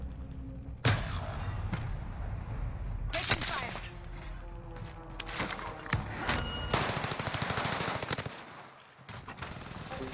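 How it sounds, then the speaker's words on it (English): Rapid bursts of video game gunfire rattle through most of the stretch, loud and close with a few sharper shots standing out, and a voice talks now and then beneath the shooting. "Taking fire."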